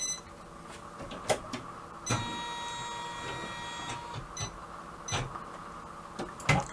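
An embroidery machine stitches a final colour pass through stacked fabric, bag outer and lining layers, producing a steady mechanical hum with high whining tones and intermittent clicks and knocks, close up, with no talking.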